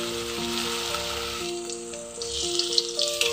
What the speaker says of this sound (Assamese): এতিয়া মই এই কণীৰ টুকুৰাবিলাক বেচন লগাই ল'ম এনেকৈ। তাৰপিছত মই ভাজি ল'ম।